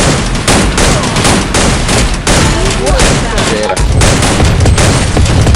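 Loud, rapid video game gunfire in dense, continuous volleys, with bursts overlapping and booming throughout, like a heated shootout.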